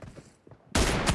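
Gunshot in a PUBG Mobile match: after a near-silent moment, one sudden loud, sharp blast cracks out close by, and its dense, booming tail rings on for about half a second.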